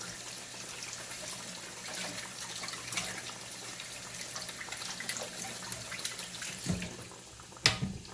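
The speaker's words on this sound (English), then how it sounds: "Let me wash my hands" Tap water runs steadily into a kitchen sink as hands are washed during fried pie preparation, a soft continuous hiss and splash with a few clinks near the end, fairly quiet and close.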